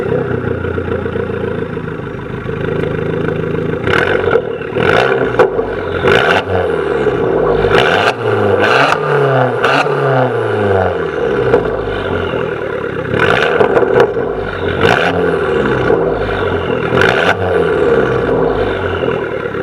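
An Abarth 500 fitted with a sports cat and straight-through exhaust revs repeatedly, with deep rising and falling engine notes and sharp crackling pops between blips, loud and close with no talking.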